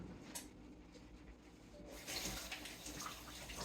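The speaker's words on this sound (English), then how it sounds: "I'm going to go in and wash my hands." Tap water runs into a kitchen sink during handwashing while cooking, a steady close hiss that grows louder and fuller about halfway through.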